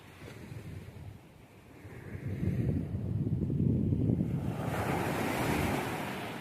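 Sea waves surge and break at Bakkhali beach with strong wind buffeting the microphone, the wash of surf building louder midway and staying broad and continuous.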